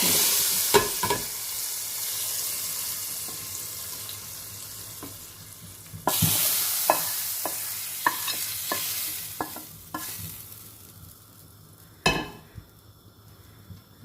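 Chana and mash dal poured onto a hot tadka, giving a sharp burst of sizzling and frying that settles into a steady hiss, with repeated clinks and scrapes of stirring throughout; no voices.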